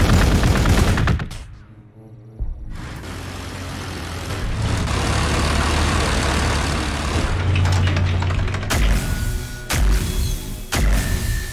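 Sustained machine-gun fire and explosions from the strategy game Warhammer 40,000: Gladius, loud dense bursts with a short quiet gap near the start, then rolling rattling gunfire and rumble continuing to the end.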